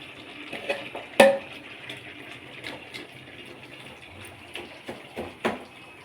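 Water is poured into a cooking pot for chicken biryani, giving an uneven splashing, gurgling fill with a few sharper clanks of the pot. No voices.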